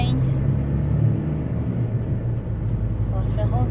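Heavy trucks rumble steadily at a dry port rail loading area where grain is brought in for loading onto trains, a continuous low engine drone with no break.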